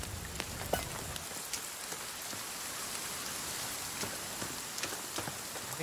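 Steady rain falls in The Forest, a dense, even hiss of droplets with scattered louder drips and taps, continuous and moderately loud with no talking.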